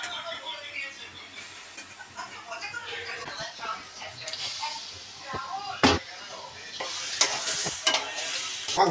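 Chicken meat frying in a pan, sizzling steadily while being stirred, with scraping and clinking of the utensil against the pan and occasional louder knocks near the end.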